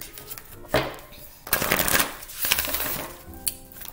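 Moonology oracle cards are shuffled in close, crisp bursts of riffling and flapping, three or four quick rounds separated by short pauses.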